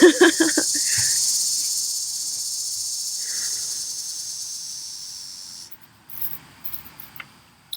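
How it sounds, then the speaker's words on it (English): Loud, continuous insect buzzing fills the air, a high shrill drone that fades gradually and cuts off, followed by a few faint clicks. "As the cicadas start going crazy."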